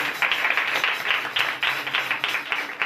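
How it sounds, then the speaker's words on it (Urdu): Loud, dense applause from a crowd at a Christmas gathering, honoring Jesus Christ's birthday, with rapid continuous clapping filling the whole stretch and no talking. "یسوع مسیح کے لیے زوردار تالیاں ہو جائیں۔"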